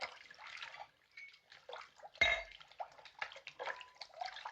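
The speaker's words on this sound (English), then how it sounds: "Fill that up with rum" Rum is poured into a container in a 1937 hospital drama scene. It sounds like a faint, uneven trickle with one sharp glassy clink partway through.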